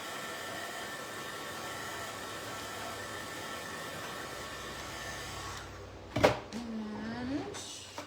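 A hair dryer runs in a steady whooshing hum while drying paint on a DIY craft piece, then cuts off near the end, followed by a few sharp clunks and knocks of handling.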